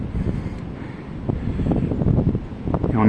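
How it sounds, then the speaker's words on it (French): Cold wind gusting steadily through trees in a frigid winter outdoor setting near a river, with snow blowing off a roof; a broad, rushing roar that swells and buffets close to the microphone without pause. "Et on entend bien le vent dans les arbres."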